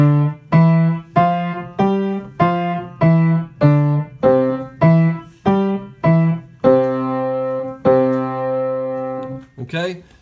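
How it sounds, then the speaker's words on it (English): A C five-finger scale played on piano with one hand, about a dozen clear separate notes stepping along in an even rhythm, then a long held tone near the end, with no talking. "we have a C 5-finger scale"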